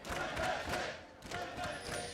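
Crowd noise at a League of Legends esports match, MSI 2018 group stage between Fnatic and Flash Wolves, a dense roar with rhythmic chanting pulses swelling and dipping over about two seconds.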